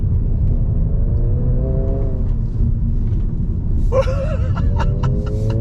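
A 2022 Honda Civic Si sport sedan pulls hard under throttle, its engine a loud, steady cabin rumble with a rising tone, and a burst of laughter joins near the end.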